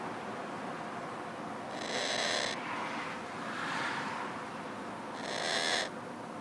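A pet bird gives two or three drawn-out, hooting owl-like calls, each lasting under a second, spaced apart over low background hiss, close and fairly quiet, with no talking.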